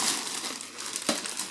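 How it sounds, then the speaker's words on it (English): Plastic bag crinkling as a portable spray booth with extraction hose is unwrapped on a table, a steady close rustle with one sharper crackle near the end. "so I'll take it out the plastic bag there"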